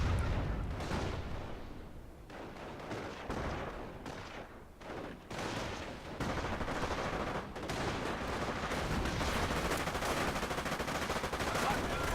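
Nebelwerfer rocket barrage in a combat video game, a dense, continuous roar of rapid blasts and rumbling impacts that fills the whole stretch, loud and close.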